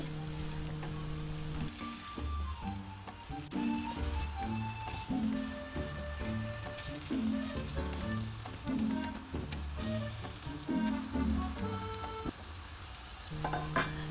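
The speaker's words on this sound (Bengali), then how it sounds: "লাউটা দিয়ে আমি খুব ভালো করে মশলার সাথে মিশিয়ে নিচ্ছি" Bottle gourd pieces get turned through spices in a pan for a Bangladeshi bata fish curry: a steady, fairly soft sizzle under regular, rhythmic stirring and scraping strokes, close up and continuing for several seconds with no talk.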